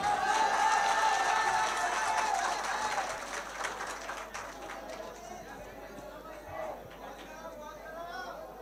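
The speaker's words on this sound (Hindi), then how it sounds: "भाई ताली बजाए" An audience at a poetry recital gives loud, dense applause that fades over a few seconds into quieter crowd murmur and scattered chatter.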